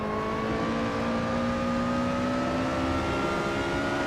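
A Lotus Exige Scura race car engine in the video game Assetto Corsa drones continuously at high revs at Imola, its pitch creeping steadily upward, loud and unbroken with no voices.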